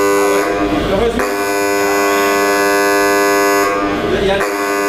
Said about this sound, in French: on va déclencher l'alarme contre les gaz